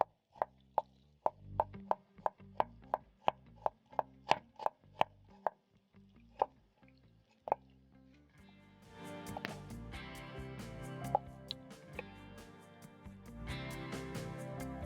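A knife slices a medium onion into strips on a board, about a dozen crisp, evenly spaced chops. Background music then swells in and the cutting fades under it.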